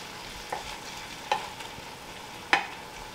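Butter sauce simmering low in a pan, intended as a topping for redfish: a soft, steady sizzle with three sharp utensil clinks against the pan, the last one loudest.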